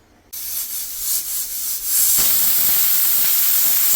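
Urad dal punugulu fritters drop into hot oil and start frying, giving a loud steady hiss and sizzle that swells after a couple of seconds and carries on alone.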